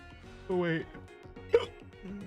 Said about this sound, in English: Ah, the hiccups!